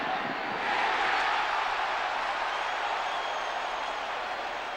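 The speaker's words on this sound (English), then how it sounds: "Crowd thought it might be a touchdown by Johnny Morton." Stadium crowd at a 1997 NFL football game between the Giants and Lions in Detroit, a broad sustained roar of cheering that swells early and holds steady for several seconds without clear talk.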